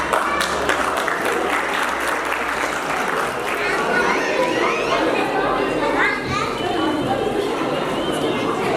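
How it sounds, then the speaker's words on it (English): Sustained applause from a large audience at a school medal and certificate ceremony as a guest walks on stage, with children's voices and chatter mixed into the clapping. "Applause as Sir Aftab joins us on stage"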